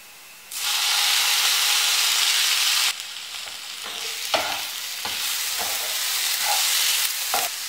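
Chopped tomatoes dropped into hot masala in a pan, for karimeen pollichathu: a sudden loud sizzle bursts up and hisses steadily, then softens as a spoon stirs with occasional scraping clicks.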